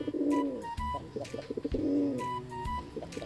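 A white and blue mother pigeon coos close by in two soft, rolling phrases, with light fluttering and small noises between them.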